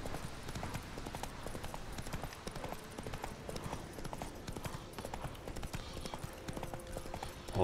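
Horse hooves clip-clop steadily at a trot in The Witcher 3, a continuous close rhythm over game ambience with no talking.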